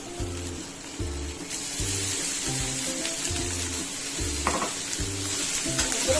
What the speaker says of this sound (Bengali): পেঁয়াজটা একটু ভেজে নিয়েছি, এরপরে টমেটোটা দিয়ে দিচ্ছি। এটা ভালোভাবে ফ্রাই হয়ে গেছে